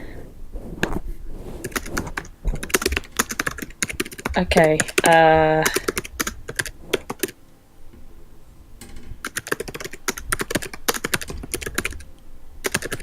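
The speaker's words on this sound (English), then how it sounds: "I'm just typing something" Rapid, uneven clatter of keys on a computer keyboard runs throughout at close range, while a person speaks briefly over it.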